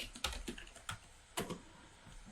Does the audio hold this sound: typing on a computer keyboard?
yes